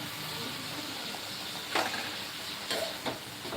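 Food frying in a hot pan with a steady soft sizzle and hiss, broken by a few brief scraping stirs of a spoon, with no voices over it.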